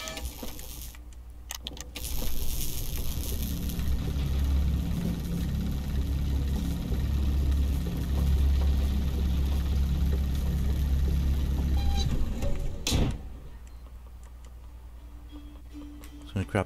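An engine runs steadily in the video game FAR: Lone Sails, a loud, continuous mechanical drone with a low rumble that holds for about eleven seconds and then cuts off, leaving a quieter background.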